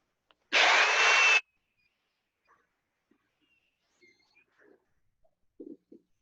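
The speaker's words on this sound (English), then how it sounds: "take and drill a hole" A short, loud burst of drilling into 3/4 inch hardwood dowel, close up, lasting under a second, followed by near silence and a few faint scattered knocks.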